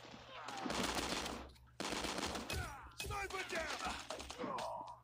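Sniper rifle fire in Call of Duty Mobile on the Halloween map comes in a few loud, broad blasts spaced through the clip, mixed with dense game sound effects.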